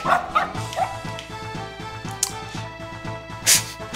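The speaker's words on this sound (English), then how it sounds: "Hey kid, ain't this your dog, Rusty?" A cartoon dog in the western video game Boot Hill Heroes yips and barks in short bursts over looping game music, with a few quick whimpering sounds, loud and close.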